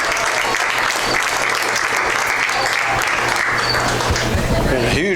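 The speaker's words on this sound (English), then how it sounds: "a huge round of applause there, well deserved from the fans" Fans in the stands at a high school football game applaud the state champions, loud sustained clapping from a crowd with an announcer's voice carrying over it.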